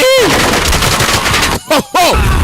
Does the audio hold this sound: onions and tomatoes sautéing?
no